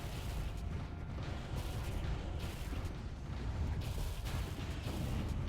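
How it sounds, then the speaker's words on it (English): Torpedoes striking a space station in the strategy game Stellaris, a continuous rumbling barrage of low booms and impacts layered over a steady hum, moderately loud with no talk. "torpedoes are amazing"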